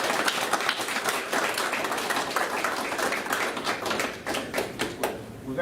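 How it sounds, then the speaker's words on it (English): Spectators at a snooker state final applauding the players, a dense, sustained round of clapping from a modest crowd in an indoor venue, fairly close and tapering near the end. "Everyone, round of applause."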